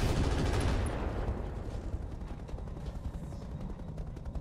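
In the mech combat video game Roguetech, weapons fire in a dense, loud barrage of rapid rattling shots and booms that fades a little after the first second, then continues as a steady crackle of gunfire.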